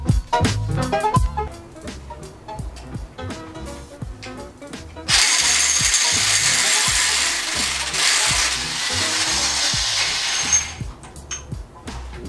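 A ratchet works a rusted, tightly torqued bolt on the front axle of a Jeep XJ Cherokee, close rapid clicking strokes in bursts, then a sustained harsh grinding rush for several seconds before more clicks.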